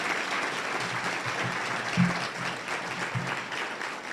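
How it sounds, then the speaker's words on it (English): Steady applause from a crowd at a school district address, clapping for Ballard High School students, continuous and fairly even for about four seconds with a few louder claps. "can we give a round of applause to our students?"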